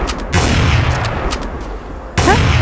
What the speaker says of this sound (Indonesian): Kamu menembakku?